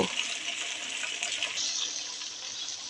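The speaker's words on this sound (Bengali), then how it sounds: "বাটিটা ধুয়ে একটু পানি দিয়ে দেব" Water runs while a bowl is rinsed and poured into a pan during home cooking of chicken biryani with peas. A steady, close, fairly soft stream of splashing water continues throughout with no talking.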